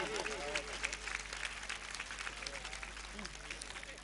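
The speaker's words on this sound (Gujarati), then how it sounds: "આપણે સૌ તાળીઓ સાથે એને નમસ્કાર કરી" An audience claps continuously at a 2008 Bhanushali Samaj religious katha in Jamnagar, with dense sustained applause and a voice or music carrying over it.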